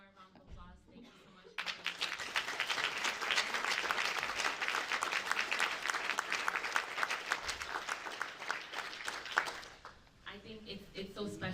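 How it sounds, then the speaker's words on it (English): Audience applause at a poetry and photography event in a community space, rising sharply after a quiet start into sustained clapping from many hands, then fading out as a voice speaks near the end. "I think just one more round of applause."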